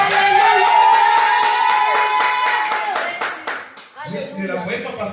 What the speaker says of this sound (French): Acclamez plus fort que ça.